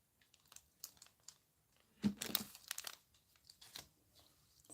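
A blade slices the edge of a pink and white polymer clay cane, giving faint soft crunching and crinkling scrapes that cluster in one firmer cut midway through, all close and quiet.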